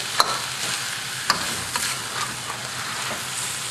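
An eel is stir-fried with a spatula alongside coated wedge-cut onions: a frying sizzle runs under several sharp scraping strokes of the spatula against the pan, spaced irregularly.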